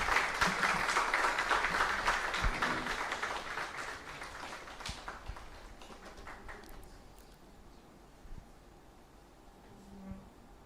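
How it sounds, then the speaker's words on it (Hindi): Audience clapping to welcome a guest at the valedictory session of a training programme. Dense, loud applause fills the first several seconds, then thins to scattered claps and fades to a quieter room. "हम सभी खड़े होकर दीदी का स्वागत करें और ताली बजाते हुए भी स्वागत करें।"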